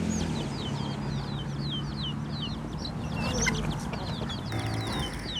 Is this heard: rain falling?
no